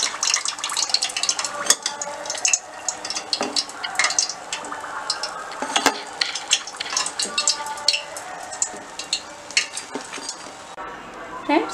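Wheat flour and potato snack frying in a pan, crackling and sizzling steadily with bursts of stirring and scraping throughout, fairly close and continuous.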